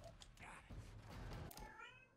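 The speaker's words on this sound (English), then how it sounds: "You gonna meow at me when I'm recording?" A house cat meows indoors, a few drawn-out, faint mews close to the microphone against a quiet background hum.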